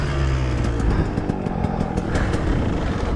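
A 2021 KTM 125XC two-stroke dirt bike engine runs loud and close, a raspy buzzing drone with slight rises and dips in pitch and no talking.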